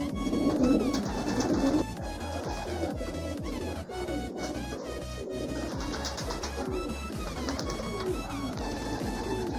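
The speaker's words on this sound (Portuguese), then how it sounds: "Dê uma filmada nos pombos bonitos aí pra tá mostrando pra galera toda aí" Pigeons coo softly at nightfall amid a steady, dense outdoor din with repeated pulsing tones running throughout, the birds' calls blending into the continuous background.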